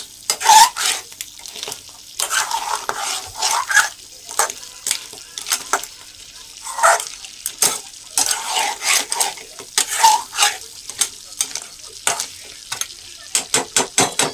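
Crab fry sizzling and being stirred in a pan, with repeated scraping of a utensil against the metal in uneven bursts over a steady close sizzle, no talking.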